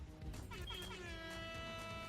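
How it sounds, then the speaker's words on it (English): Air horns blare in a sustained, layered chord that rises out of a murky background and holds steady to the end, fairly faint overall, with a voice faintly audible at the start. "I hear the air horns."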